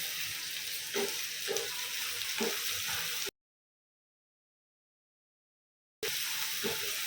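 Curry leaves sizzle in hot oil in a pan, a steady close hiss with soft crackles that cuts out to silence for a few seconds and then resumes.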